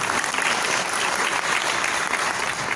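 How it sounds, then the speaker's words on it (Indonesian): An audience claps steadily and densely through the whole stretch at a Detox Your Body program event, applauding the ProArgi9 supplement, with no voices standing out over the clapping. "Tepuk tangan dulu dong buat ProArgi9."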